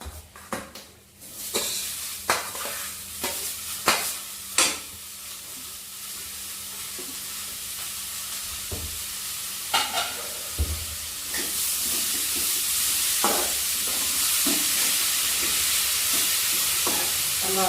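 Drumstick (moringa) flowers tossed into a hot pan for a Kerala-style thoran, with sharp scraping stirs at first, then a building steady sizzle and hiss, no talking.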